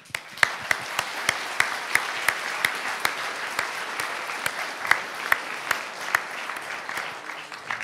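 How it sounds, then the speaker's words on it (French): Sustained applause from an audience at a national student science competition prize ceremony, steady broadband clapping with a few sharper individual claps standing out throughout, no talk. "Et donc, on peut déjà les applaudir très fort."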